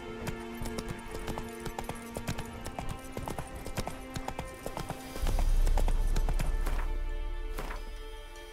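Roach, a horse in the video game The Witcher 3, gallops with rapid rhythmic hoofbeats that stay close and clear. A low rumbling swell comes in near the end.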